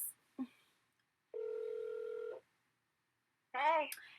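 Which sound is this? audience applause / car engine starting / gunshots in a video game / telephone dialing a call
telephone dialing a call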